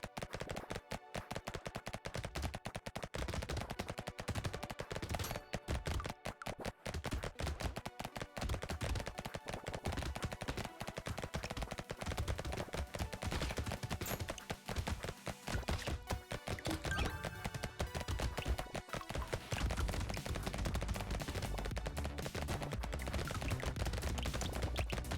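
Rapid SMG gunfire from the undead-smithing video game Necrosmith, with dense bursts of clattering shots and impacts packed together throughout, fairly quiet game sound, no talk.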